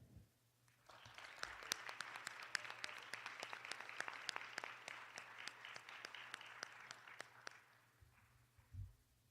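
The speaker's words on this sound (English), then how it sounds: "And let's give them a final round of applause." An audience applauds the third-place winners at a leadership challenge awards ceremony. Dense clapping builds quickly, holds steady for about seven seconds, then fades out, with no one speaking over it.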